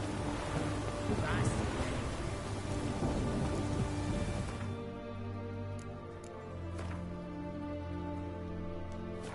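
Steady rain falls outdoors as a broad, even hiss, louder for the first few seconds and then softer and thinner, with a couple of brief sharper taps near the end.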